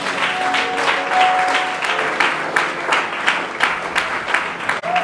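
A church congregation applauds in praise, producing steady, loud, sustained clapping from many hands across the room, with a few voices rising faintly beneath it.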